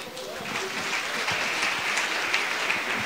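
Applause from a congregation during a church service, a steady dense wash of clapping over roughly three seconds with crowd voices mixed in.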